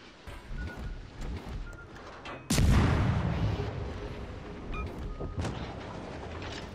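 Torpedo hits and naval gunfire in a naval battle video game: a sudden heavy boom bursts in partway through and rolls off into a long rumbling decay, with scattered lighter shots before and after.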